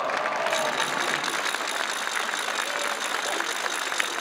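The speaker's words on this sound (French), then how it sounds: "On peut les applaudir bien fort." A large crowd applauds loudly for the organisers and volunteers at a public event, a continuous, dense wash of clapping heard from within the hall that holds steady throughout.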